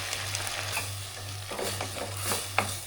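A ground paste of coconut, fennel, cumin and green chili being stirred into tomato masala in a pan, with soft scraping strokes over a faint steady sizzle and a low hum, a sharper clack near the end.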